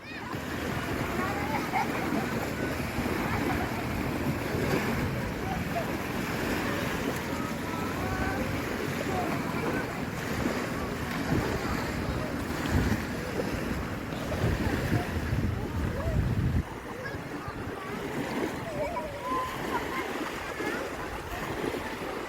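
Waves wash continuously against the shore at a beach in Iloilo City, Philippines, a steady surf roar with wind, while people talk and call out over it.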